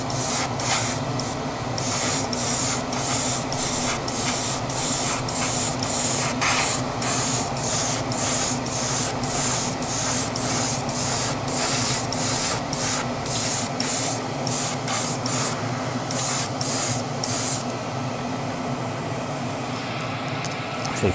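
Repeated short bursts of aerosol spray paint hiss loudly and close up as coats go onto a Tamiya Castrol Celica WRC model body, the sprays pulsing steadily in rhythm before stopping near the end.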